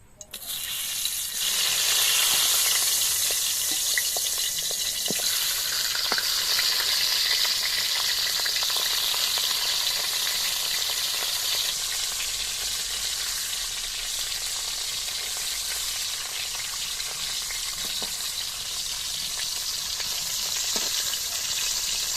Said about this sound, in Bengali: তেলটা আমার গরম হয়ে গেছে, এবার মুড়োগুলো ভেজে নেব।